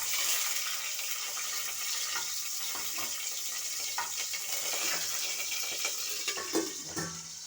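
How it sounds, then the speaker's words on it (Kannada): Mustard seeds and chopped onion frying in oil on a low flame, a soft steady sizzle with faint stirring scrapes and occasional small pops, fairly quiet and with no talk. "ಸ್ವಲ್ಪ ಸಾಸಿವೆ ಕಾಳನ್ನು ಸೇರಿಸ್ಕೊತಾ ಇದ್ದೀನಿ ಅದು ಚೆನ್ನಾಗಿ ಫ್ರೈ ಆಗಬೇಕು ಎಣ್ಣೆಯಲ್ಲಿ"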